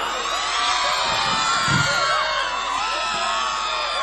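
A large worship crowd at a live prophetic prayer meeting shouts and whoops together in a loud, sustained roar that stays steady throughout.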